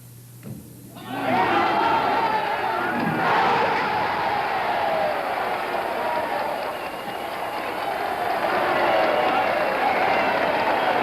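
A bowling crowd erupts in loud, sustained cheering and applause after a perfect 300 game with a $10,000 prize and a new Cougar at stake, the roar swelling after a brief quiet start and holding steady to the end.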